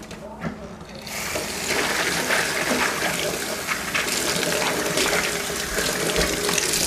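A glass teapot is scrubbed with a sponge and a drop of lemon while water from a tap runs steadily over it, a broad continuous splashing rush that starts after a brief quieter opening and holds at close range.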